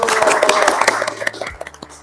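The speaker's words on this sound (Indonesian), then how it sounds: "Oke, tepuk tangan dulu." A class of 7C students in an Indonesian school lesson claps their hands together, a dense crowd of sharp overlapping slaps for about a second and a half before it thins to a few scattered claps.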